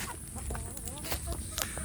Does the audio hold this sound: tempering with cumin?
no